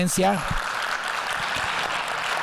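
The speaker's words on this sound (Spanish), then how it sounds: "les pido que le demos un muy fuerte aplauso a Ernesto" An audience at a festival master class breaks into steady applause that fills the clip after a brief voice at the very start.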